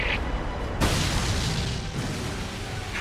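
A Terra Explosion attack from the Pokémon anime bursts in with a sudden loud boom partway through, then rolls on as a dense, sustained rumbling blast.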